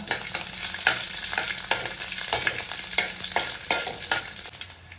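Curry leaves and green chilies, added along with garlic, crackle loudly in hot oil in a pan as they are stirred, with a dense sizzle and repeated scraping strokes of the spoon and no talking.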